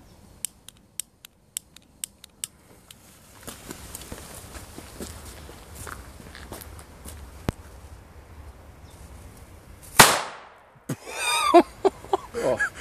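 A rare 1980 Franz Keller Pyro Cracker (Red Lantern, grey fuse) laid flat on the ground goes off in a single sharp, loud bang that rings out briefly. Scattered clicks and footsteps come before it, and noisy rustling follows.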